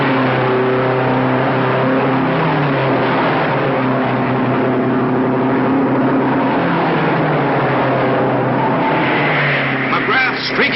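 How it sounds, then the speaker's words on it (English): Race car engines at the 1955 Indianapolis 500 sing in sustained, droning tones that shift pitch as cars pass, steady and loud under continuous commentary from an announcer. "Listen to these engines sing."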